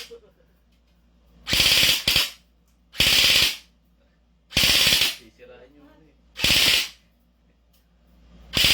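Bursts of gunfire at a shooting range, several loud, close shots in separate clusters spaced about a second apart, some doubled, with brief faint voice in a gap.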